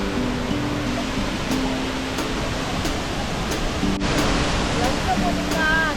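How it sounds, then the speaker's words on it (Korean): Steady rushing water from Wachirathan Waterfall in Doi Inthanon National Park, Thailand, roars continuously, with faint voices and a few distant bird chirps over it. "폭포 소리가 아주 좋네요."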